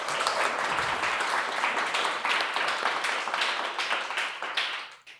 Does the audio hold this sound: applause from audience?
yes